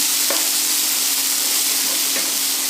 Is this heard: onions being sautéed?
yes